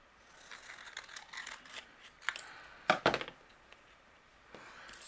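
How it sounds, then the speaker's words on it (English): Close scissors snip through stiff corrugated cardstock in a handful of short crunchy cuts, with soft rustling in between and no talking. "I'm going to use my scissors. We're going to create a dome shape with it."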